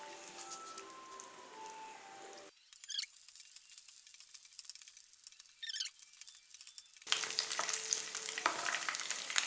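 Cashews and raisins frying in a pan for adai payasam, a soft, quiet crackle and hiss that drops off briefly in the middle before returning.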